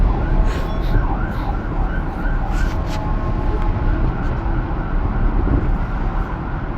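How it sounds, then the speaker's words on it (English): Strong wind buffets close up in a steady, loud roar with rumbling gusts, no voices heard. "it's too windy"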